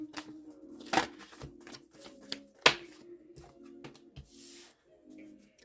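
Oracle cards are shuffled by hand up close, giving soft, irregular riffling and slapping bursts with a few sharper snaps between quiet gaps.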